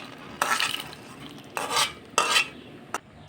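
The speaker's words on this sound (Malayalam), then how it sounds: "നമുക്ക് വറുത്ത് വെച്ച കശുവണ്ടി പരിപ്പും മുന്തിരിങ്ങയും കടലയും കൂടെ ഇട്ട് കൊടുക്കാം" Fried cashews, raisins and chickpeas are stirred into payasam: three separate bursts of spoon scraping and swishing against the pot, with a short clink near the end and quiet gaps between.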